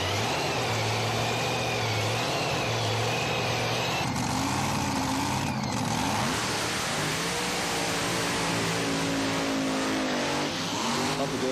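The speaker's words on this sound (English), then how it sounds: "Revs up, a lot of revs on the start line." Top alcohol drag racing car engine revving loud and sustained on the start line at the NZ Northern Nationals, with rising and falling revs and a commentator talking over it.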